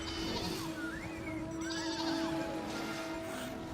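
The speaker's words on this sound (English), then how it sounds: "I heard a sheep." Sheep bleat in a video game, a few wavering calls heard over a steady background hum of game audio, with no talk over them.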